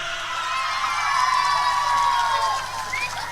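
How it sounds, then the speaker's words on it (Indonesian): Crowd cheering and clapping at a Reog Ponorogo comedy show, a sustained roar of voices with shouts and whistles over scattered applause, loud throughout. "Kasih tepuk tangan."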